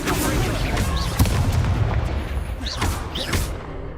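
A fire spell cast in Hogwarts Legacy: repeated booming, crackling bursts over continuous rumbling combat noise, loud and close, with voices shouting spell names among the blasts.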